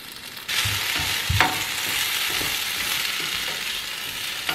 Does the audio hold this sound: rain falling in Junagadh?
no